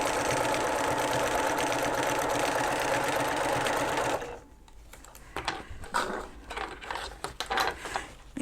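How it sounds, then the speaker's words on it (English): Sewing machine running steadily while stitching a quarter-inch seam around a reversible bucket hat, a loud continuous whir for about four seconds, then stopping, followed by quieter handling and fabric rustling. "I'm just going to sew 1/4 of an inch around."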